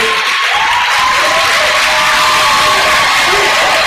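A summit audience at a university claps and cheers loudly, a thick continuous roar of hands with whoops and shouts mixed in, close and sustained for several seconds.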